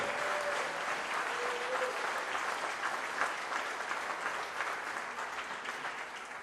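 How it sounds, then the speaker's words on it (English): Applause at a campaign press conference in Chicago, a continuous crowd clapping wash heard from some distance, steady and even for several seconds and slowly fading toward the end. "Give a round of applause for Sam T."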